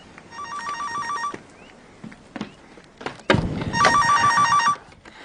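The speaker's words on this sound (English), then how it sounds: "The phone." An old-style telephone rings in two loud trilling bursts in a radio drama, with thumps, a door and footsteps in between as someone crosses the room to answer.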